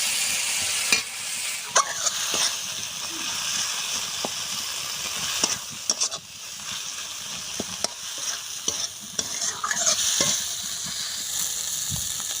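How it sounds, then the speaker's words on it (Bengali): Prawn filling with whole cumin and coriander paste stirred and fried in a pan: steady close sizzle with repeated scraping strokes of the spoon throughout, no voices. "এইভাবে কষে নেব।"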